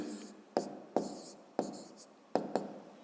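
Pen strokes writing multi-digit numbers by hand for a fifth-grade maths exercise, heard as five sharp, close taps and scratches in an uneven rhythm with quiet gaps between them.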